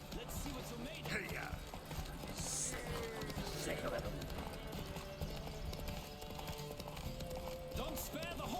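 A horse galloping in a race in The Witcher 3, its rapid hoofbeats running steadily under a busy mix of game sounds and talk throughout.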